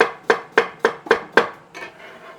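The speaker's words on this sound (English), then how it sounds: "I'll just cut that into slices for my tacos." A knife chops through food on a cutting board for tacos, six evenly spaced crisp thunks about a quarter second apart, then two softer cuts trailing off, close and clear.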